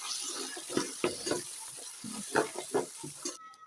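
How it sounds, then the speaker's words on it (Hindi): Tomato paste is stirred into a sizzling pan of masala for Kashmiri chicken fry, wet squelching scrapes and thick slurping pulses over a steady hiss of frying, ending abruptly. "अब हम इसके अंदर टमाटर का पेस्ट ऐड करते हैं और मिक्स करते हैं"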